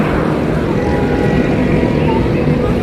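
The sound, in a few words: cool wind blowing at highway stop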